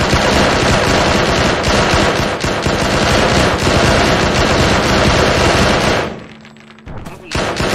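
Loud, sustained automatic gunfire in ArmA 3, a dense rapid burst filling most of the moment before cutting off abruptly, followed by a short quieter gap and a final shot.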